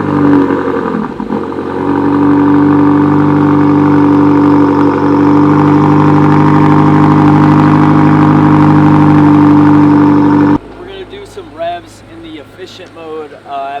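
A 2019 BMW M5 Competition with Armytrix downpipes fires up and settles into a loud, deep, steady idle that holds for about ten seconds before cutting off, after which someone speaks.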